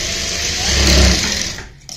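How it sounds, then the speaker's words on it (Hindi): A sewing machine runs steadily, stitching a lattice-style neck on printed fabric: a close, continuous whirring motor with a fast stitching rhythm that slows and stops near the end. "तो यहाँ से हम इस तरीके से सिलाई लगाएंगे।"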